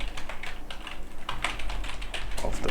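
Quick, steady keystrokes on a computer keyboard, close and moderately quiet, typing continuously for a few seconds with no talk.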